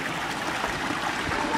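Steady broadband rush of a stream flowing outdoors on a wild trail near a beach, continuous and fairly close, with no clear speech over it.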